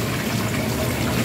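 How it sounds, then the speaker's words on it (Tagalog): Water runs steadily from a tap or pump while a fountain basin is refilled, a continuous close rushing gush with no pauses and no talking. "palit-ulit ng tubig guys sa fountain guys"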